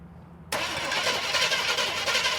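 A barn-find Chevrolet Chevelle, abandoned for 24 years, cranks over after a brief quiet moment: the starter spins the engine with a steady, loud churning whir that continues without firing.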